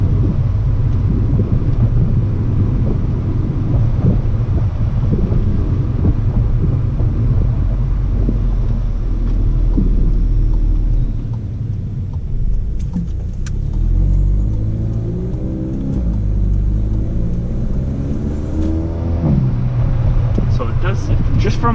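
A car with a tuned DSG transmission revs and accelerates up close, its engine note climbing and holding before a gear change, then rising again, with wind buffeting the microphone and a voice talking over part of it.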